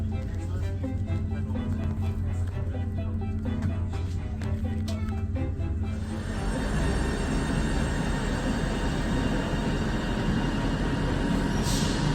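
Steady low rumble of a train idling at a station before a journey to Carlisle, with a change in engine drone partway through and faint background voices.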